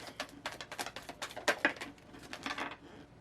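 Tarot cards shuffled by hand close to the microphone, giving quick papery riffling bursts in an uneven rhythm for a few seconds, with no talking.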